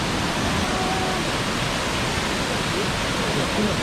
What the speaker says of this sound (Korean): 여기 이게 그 폭포가 아닐까?